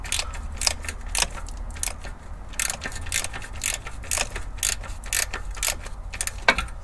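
Ratchet wrench clicking on the oil cooler lines of a Toyota 2GR-FE V6 engine, a steady series of quick metallic ratcheting clicks in short bursts, close up, with no speech.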